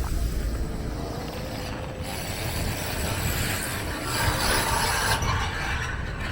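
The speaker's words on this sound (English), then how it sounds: "the sound of construction is going to be the sound of Old City this summer" Continuous grinding and rasping noise from construction machinery on a street in Philadelphia's Old City, steady and fairly loud without a break.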